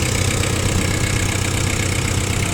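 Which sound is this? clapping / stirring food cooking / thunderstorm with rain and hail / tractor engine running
tractor engine running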